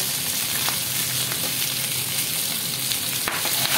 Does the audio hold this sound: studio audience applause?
no